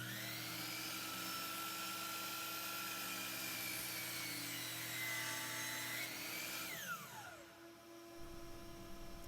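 Miter saw cutting two pieces of firewood at once for the head of a wooden mallet, a loud sustained high-pitched whine as the blade bites through, then winding down toward the end.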